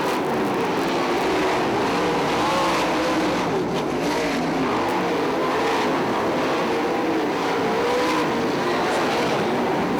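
410 sprint cars racing at Fremont Speedway, a dense, continuous roar of high-revving engines that sustains loudly for the whole stretch, with cars swelling and passing in the pack.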